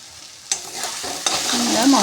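Potatoes being stirred into frying masala in a pan, with a scrape of the spoon and a loud sizzle that swells and grows denser toward the end, close up with no voices.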